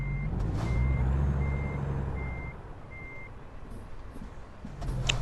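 A truck in American Truck Simulator sounds its reversing alarm, a steady series of evenly spaced electronic beeps over a low idling engine rumble, with a brief hiss near the end.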